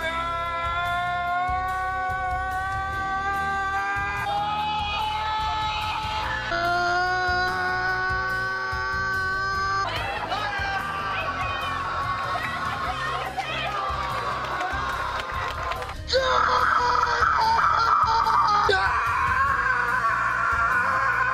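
A crowd of people screams very loudly in long, sustained, pitched yells that overlap and shift in pitch, swelling louder near the end, with talking voices mixed in.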